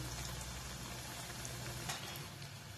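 Cutlets frying in hot oil at medium gas, a steady dense sizzle and bubbling that holds constant and close throughout, with no talking.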